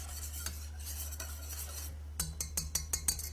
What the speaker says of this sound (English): So we're just going to whisk this all together just until the butter melts.